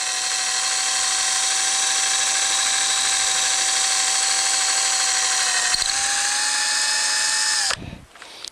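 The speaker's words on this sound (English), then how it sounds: "We now proceed to drill our rope and chain hole." A power drill whines steadily at high pitch for nearly eight seconds, close and loud, the tone dipping slightly once before it cuts off, drilling a rope and chain hole for a boat windlass installation.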